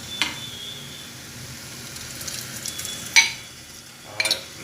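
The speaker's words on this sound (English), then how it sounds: "we're gonna add the mashed vegetables" Mashed vegetables for pav bhaji go into a hot pan and are stirred, giving a soft steady sizzle broken by a few sharp scrapes and clinks of utensil against metal.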